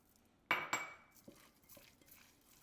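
Fry being mixed in a pan for a Cuban-Bahamian dish: two sharp metallic clanks of a utensil against the pan, followed by a few softer scraping knocks, close and fairly quiet.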